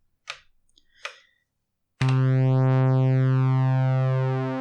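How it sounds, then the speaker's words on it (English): An Elektron Rytm MK2 drum machine plays a loud, steady synth tone with oscillator 2 detune being finely adjusted, the pitches slowly sweeping against each other after two soft clicks of the controls. "Now you can hear that I can very finely control the detune value of these oscillators."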